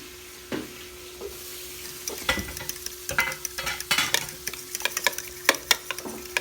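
Food frying in a pan being stirred at home, with scraping stirs and clinks over a steady sizzle, close and fairly loud, with no talk.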